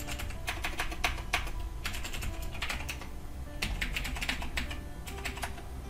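Fingers type a username and password on a computer keyboard, giving quick irregular bursts of close key clicks over a low steady background hum.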